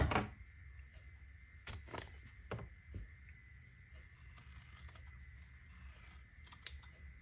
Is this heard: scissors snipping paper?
yes